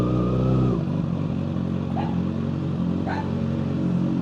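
A dog barks twice in short yelps over the steady, loud idle of a Kawasaki ZX6R motorcycle fitted with a Yoshimura slip-on and full header exhaust.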